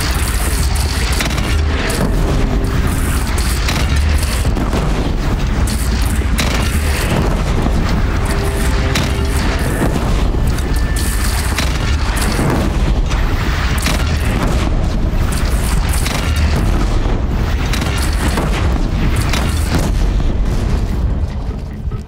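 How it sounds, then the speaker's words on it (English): Cannon fire and explosions roar during a battle in the video game Horizon Zero Dawn, with loud, continuous booming blasts and rumble filling the whole stretch at close range. "They only have one cannon!"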